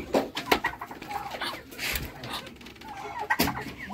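Chickens cluck in a home where rabbits and other animals are kept, short irregular calls coming close and fairly loud over a busy background of rustling and movement, with no talk.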